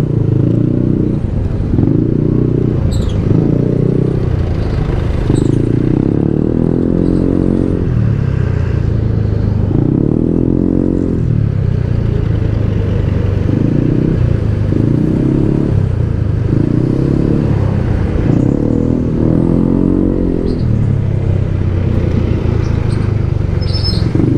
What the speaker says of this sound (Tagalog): So dito medyo matraffic kasi may intersection din dito kasi.